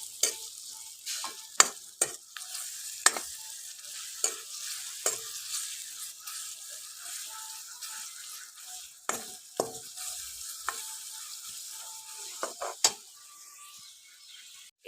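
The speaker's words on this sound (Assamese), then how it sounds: "মই পিঁয়াজখিনি ইয়াতে ভাজি ল'ম খুব ধুনীয়াকৈ" Onions fry in a pan over a low flame while a spoon stirs them, giving sharp intermittent scrapes and clicks over a faint, steady sizzle, with no talking.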